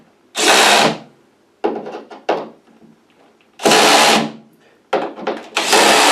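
A DeWalt XR brushless driver torquing screws along a boat's deck-to-hull seal, giving several loud whirring bursts of about half a second to a second, separated by short pauses and silence.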